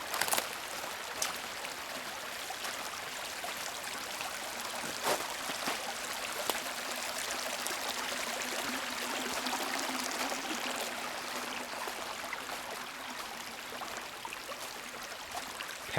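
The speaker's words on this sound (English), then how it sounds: "And the water just continues to flow." Water flowing steadily down a mossy forest trail stream, a continuous near wash with occasional faint clicks throughout.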